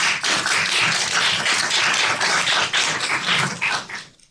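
A seminar audience applauding, dense sustained clapping from many hands that holds steady for several seconds and then tapers off at the end.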